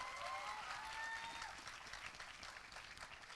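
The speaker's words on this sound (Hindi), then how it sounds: "मैं चाहता हूँ उनके लिए ज़ोरदार तालियां आप बजाएं" A film festival audience claps for a film's director, a faint, sustained wash of applause heard from a distance, with a few voices and whistle-like tones mixed in near the start.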